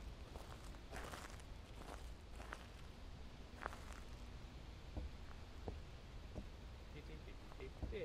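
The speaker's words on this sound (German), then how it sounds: "ich dachte, ich habe Schritte gehört" Footsteps in the horror game Phasmophobia, a series of soft, scattered thuds at moderate distance over a steady low background hum, with occasional faint voices in the mix.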